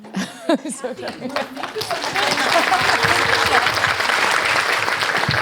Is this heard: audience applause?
yes